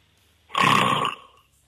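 A single loud snore-like rasping grunt, about a second long, close and alone; it sounds like a person imitating a snore.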